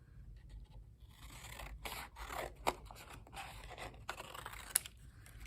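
Scissors cut a paper plate in half, close and quiet, with a series of crisp snipping and crunching strokes after a brief silent start.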